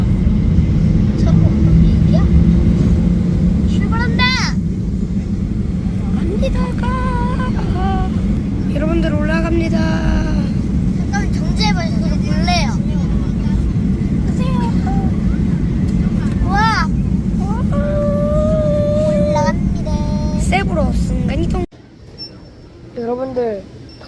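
A passenger airplane rumbles steadily on departure from an airport in the Philippines, a loud, continuous low engine drone filling the cabin while people talk over it throughout, ending abruptly near the end.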